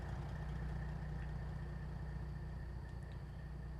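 Truck engine in American Truck Simulator idling at rest, a steady low throbbing drone that holds even throughout, fairly quiet and alone.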